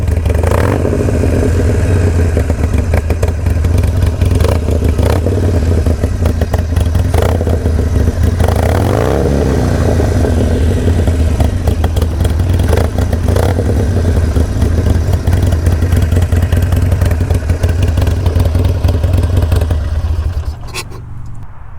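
Harley-Davidson Sportster motorcycle engine running loud and close with a heavy rumbling idle, revved up a few times and settling back, rattly and continuous for about twenty seconds before cutting down at the end.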